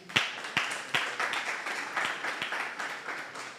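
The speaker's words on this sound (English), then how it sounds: "A round of applause for Pedro, please." An audience at a blockchain talk-show recording applauds a guest with a burst of sharp claps that settles into steady, moderately loud clapping and then slowly tapers off.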